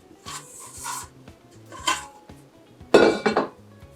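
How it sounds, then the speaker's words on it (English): A utensil scrapes the last bits of bread dough for German-style white buns (Berlin Schrippe) from a mixing bowl, giving several close, uneven scraping and rubbing bursts with light clinks, louder toward the end. "Just gonna scrape the little bit that's left in the bowl and add it to the dough."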